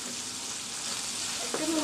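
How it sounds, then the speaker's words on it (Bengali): Eggplant seasoned with red chili powder and salt fries crisp in hot oil, a steady close sizzle running throughout, with a faint clink near the end. "মুচমুচে করে ভেজে নিব একদম মুচমুচে করে ভেজে নিব"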